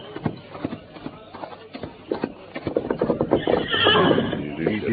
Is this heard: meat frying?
no